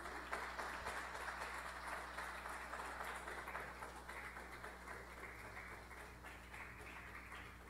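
A church congregation applauds during a Portuguese-language worship service, the clapping steady and moderately distant under a continuous low hum throughout.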